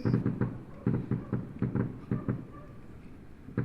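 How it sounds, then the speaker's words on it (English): Fireworks bursting in a video game New Year show, a rapid string of loud thumping blasts with short pauses, then scattered fainter pops and one final bang. "that's a lot of fireworks"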